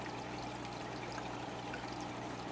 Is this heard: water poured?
yes